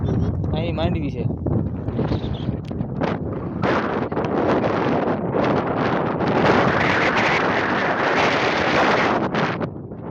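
Strong wind roars across an open farm field, buffeting the microphone in loud, continuous gusts while someone talks over it.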